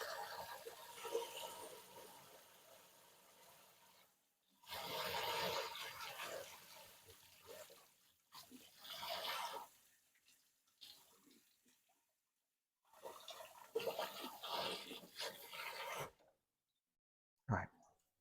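Tap water runs into a sink in several bursts while soil is rinsed from a boxwood bonsai's roots, the flow starting and stopping with short silent gaps between, fairly close and moderate in level.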